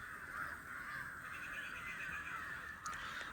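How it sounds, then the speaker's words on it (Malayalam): Crows caw repeatedly at a distance in Calicut, Kerala. The calls are faint but clear over a steady background hiss, with no voices. "അവിടെ എന്തോ കാക്കേൻ്റെ ഒക്കെ ഒച്ച കേൾക്കുന്നുണ്ട്."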